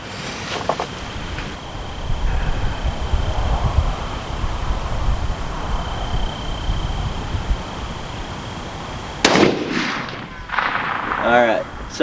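A single 350 Legend rifle shot cracks out sharply near the end, preceded by a long stretch of quiet outdoor ambience with a faint steady insect-like whine.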